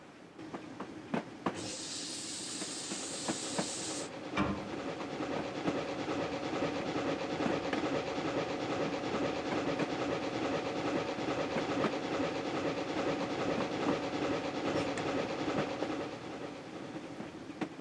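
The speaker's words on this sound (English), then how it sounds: "GWR, this is the steam rail motor." A GWR steam railmotor in Train Simulator runs steadily with a continuous rumble and rhythmic rail clatter, and a bright hiss of steam is heard near the start.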